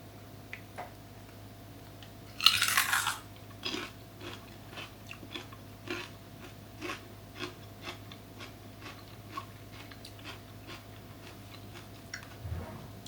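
Light-colored celery sticks dipped in keto pickle dip are crunched in one loud bite. Soft, irregular chewing clicks follow at close range over a faint steady hum, with no talking.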